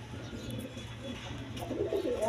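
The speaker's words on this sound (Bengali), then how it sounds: "এখানে এক পেয়ার রেসার কবুতর আছে" A pair of racer pigeons coo softly and low in a steady, repeated murmur, heard close and alone without talk.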